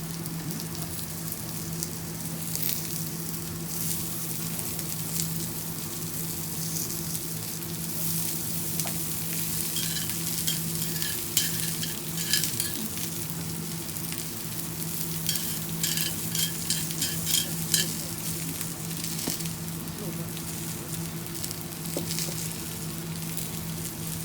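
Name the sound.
fat sizzling on a hot jingisukan grill pan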